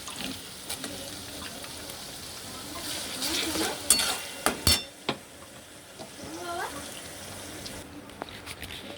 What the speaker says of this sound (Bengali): পেঁয়াজগুলোকে লাল করে ভেজে নেব। দেখুন আমাদের পেঁয়াজগুলো ভাজা হয়ে গেছে।